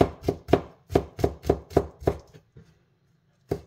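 A knife finely chops garlic on a board in quick, steady, close taps, about eight in a row, then a pause and one last chop.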